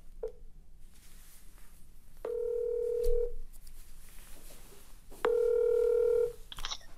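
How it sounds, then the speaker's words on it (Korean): Two long DTMF keypad tones sound close and clear, each about a second, with short faint key clicks between them, as a phone number is dialed to call a parent for a telephone interview; no voices. "이 소희네 엄마에게 전화를 해서 소희랑 같이 통화를 하도록 하겠습니다"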